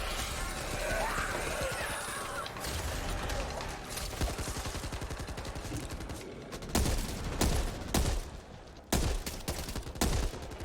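Continuous automatic gunfire mowing down zombies in the video game Back 4 Blood, a dense, steady stream of shots followed by sharper, louder bursts and impacts, close and relentless, with no voices.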